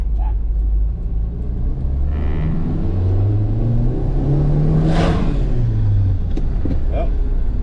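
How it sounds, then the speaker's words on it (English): A 1985 Dodge Daytona engine revs and pulls steadily close by, its pitch climbing and falling as it accelerates, loud and continuous throughout. "this car is so fun to drive, it's ridiculous."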